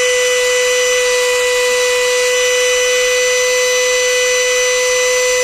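Handheld rotary tool spinning at its top speed, rated around 35,000 RPM, a loud, steady, high-pitched whine held constant without a break from start to finish.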